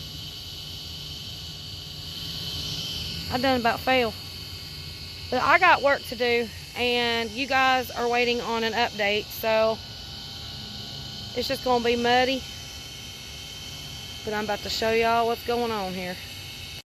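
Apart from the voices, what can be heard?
loud pool pump motor running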